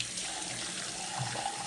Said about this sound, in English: Make sure you wring it out until the water is clear.